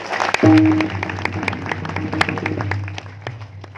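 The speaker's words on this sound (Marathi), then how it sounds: "एकदा जोरदार टाळ्या वाजवल्या" Loud applause from an audience bursts in after a brief pause, with dense clapping sustained under a low steady hum throughout.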